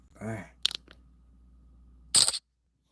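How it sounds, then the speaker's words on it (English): Loud camera shutter effect from a phone screenshot, a sharp burst of clicking near the end after a short spoken word and a couple of faint taps. "Did y'all hear that big that shutter sound?"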